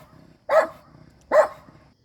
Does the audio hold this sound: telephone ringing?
no